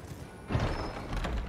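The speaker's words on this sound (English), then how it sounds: "I can still ride my horse, which I think is pretty cool." Horse hooves clip-clopping in the Elden Ring video game, a steady run of soft thuds with a louder stretch partway through, heard alone without talk.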